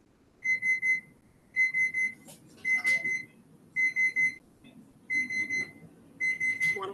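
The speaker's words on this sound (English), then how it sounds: "Somebody's alarm." An alarm sounds on a meeting call, a bright electronic beep pattern repeating in short bursts of three to four beeps with brief gaps between groups, loud and steady, with no talking over it.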